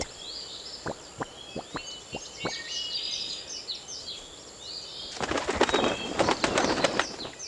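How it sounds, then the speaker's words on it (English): Birds in the 1996 PC game Magic Tales: Liam Finds a Story give sharp wing flaps and clicks, then a dense flurry of fluttering wings and bird calls over a steady high tone, fairly loud and close. "There now, little birds. I hope you've had enough to eat."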